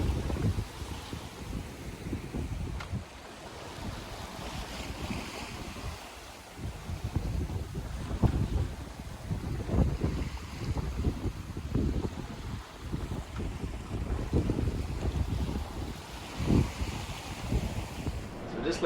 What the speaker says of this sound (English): Left that last anchorage and we're on our way up towards Haines, and we're sailing again.